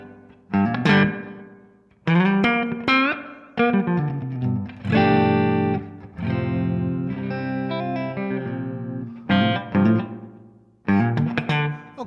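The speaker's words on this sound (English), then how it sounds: "if you want to go to a different type of reverb, let's see what we got here. We got a matchbox sproing." Guitar played through a Kemper Profiling Amplifier with its matchbox sproing spring-style reverb: strummed chords and picked phrases ring out with a springy, splashy decay between bursts, no talking.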